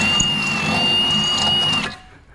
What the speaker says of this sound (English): I'm going to drill them all out, and then I'll just bolt it on